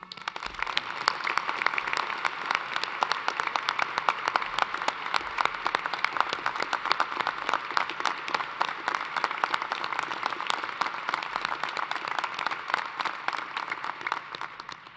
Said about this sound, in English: Please join me in a round of applause for Dr. Nagy.